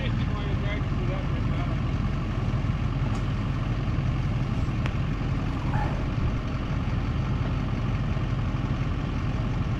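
A Duramax pickup truck stuck in mud idles with a steady low rumble that runs throughout while people talk over it.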